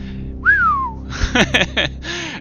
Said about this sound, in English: Braxius whistles to himself.